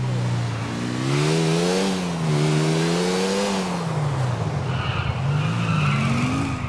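A motorbike in the video game Grand Theft Auto IV revs loudly with rising and falling engine pitch while its tyres skid and squeal, close and continuous throughout with no talking.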